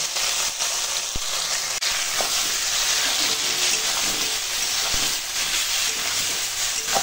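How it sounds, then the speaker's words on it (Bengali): Potato pieces with salt, Kashmiri chili powder and other spices sizzle steadily in hot oil in a pan, a dense continuous frying hiss with a few faint knocks of stirring and no talking. "মশলার সঙ্গে কষানো হলো, ভাজাও হলো, সব একসঙ্গে।"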